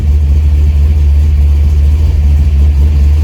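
A 1971 Chevrolet El Camino SS engine idles steadily at about 1100 rpm with a loud, low, even rumble close by, unchanging throughout, with no voices.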